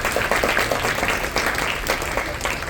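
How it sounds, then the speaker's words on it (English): An audience at the opening ceremony of the Vex Robotics Arkansas State Championship claps in a dense, steady round of applause that holds at an even level throughout. "so give them a round of applause"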